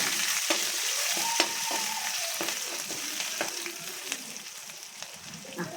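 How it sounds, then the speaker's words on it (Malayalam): Crushed garlic and ginger fry in coconut oil with mustard seeds, giving a close, steady sizzle punctuated by sharp pops and the scrape of stirring. "വെളുത്തുള്ളി ചതച്ചത് ഇഞ്ചി ചതച്ചത് അതൊന്ന് മൂത്ത് വരുമ്പോൾ ഒന്ന് മൂക്കട്ടെ"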